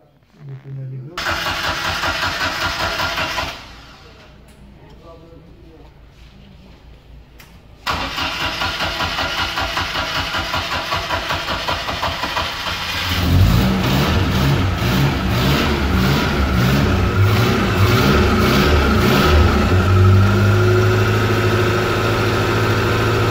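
A UAZ-452 van engine cranks and catches, then idles and revs steadily, close by, with people talking over the running motor.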